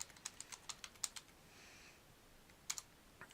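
Fingers typing on a computer keyboard, a quick run of light key clicks, a short pause with faint hiss, then a few more taps, all close and quiet with no talk.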